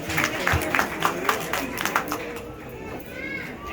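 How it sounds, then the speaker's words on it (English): A brief patter of audience clapping at a 6th grade promotion ceremony, irregular claps that thin out partway through, mixed with children's voices and crowd noise nearby. "Give a round of applause for Alexis."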